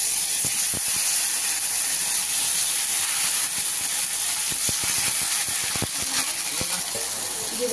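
Chilli, coriander and cumin powders with garlic sizzle loudly in hot oil for Bengali tel koi, a steady bright hiss broken by scattered clicks and spatters, with a voice talking faintly in the background.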